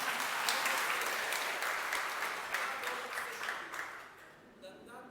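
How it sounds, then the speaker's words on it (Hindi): Listeners at a Hindu religious discourse in Jalaun break into sustained clapping, a broad, even patter of many hands that gradually thins and fades away near the end. "बोलो अब बजाओ ताली जहां बजानी है।"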